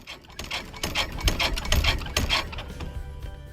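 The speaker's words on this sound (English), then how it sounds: "the battery is charging and we're running the motor" A solar-powered Keene DW2-12V dry washer's 12-volt motor runs steadily with a rattling, clicking mechanical whir, moderately loud and continuous, with no voices.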